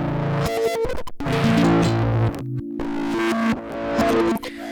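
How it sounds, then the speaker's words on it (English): Harsh, heavily distorted synth tones from an Ohmforce Ohmicide Eurorack distortion module stutter and shift in pitch, cutting in and out in choppy bursts with brief gaps of silence. "So as you can hear, Ohmicide is an incredibly versatile distortion module."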